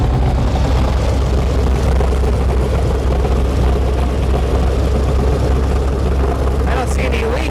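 An Onan 140 generator driven by an 884 cubic inch V8 engine idles while warming up, a loud, steady low rumble running throughout, with a brief higher whine near the end.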